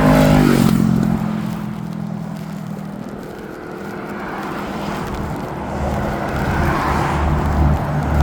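A motorcycle on a busy road swells loudly close by at first, then recedes into a steady rush of passing traffic that builds again toward the end.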